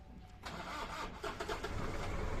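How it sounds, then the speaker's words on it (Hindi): A Jeep CG7 diesel 4x4 engine cranks and catches, settling into a loud, rough running rumble close by, with no talking. "तो गाड़ी जो है स्टार्ट हो गई,"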